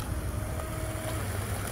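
A 1:20 scale radio-controlled hydroplane boat runs on water, a continuous high whining motor with steady hiss and spray, loud and unbroken throughout.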